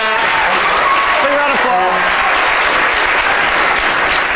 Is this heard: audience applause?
yes